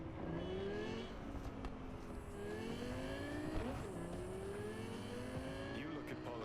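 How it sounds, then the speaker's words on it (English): A loud car engine revs and drones in Cyberpunk 2077, its pitch climbing and falling through shifts as the vehicle accelerates steadily over a continuous roar. "The world's loudest car."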